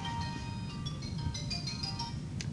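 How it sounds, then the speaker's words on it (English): A mobile phone ringtone plays in a classroom, a steady melodic electronic tone pattern in the middle distance over constant room hum, repeating notes running through the whole stretch. "It's been a while since I heard that ringtone."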